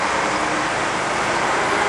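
A Mazda RX8's Renesis multi-side-port rotary engine runs with a steady, loud, unbroken roar throughout, with no voices over it.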